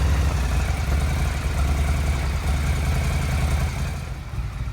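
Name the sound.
Yamaha XVS 1100 motorcycle engine starting and running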